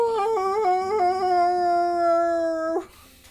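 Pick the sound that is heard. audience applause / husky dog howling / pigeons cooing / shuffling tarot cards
husky dog howling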